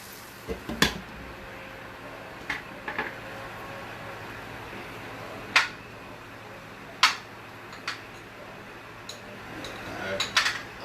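A lid set on a cooking pan of paneer sukka gives a few sharp metallic clinks and taps, spaced irregularly over a quiet kitchen background, some crisp and close, others faint.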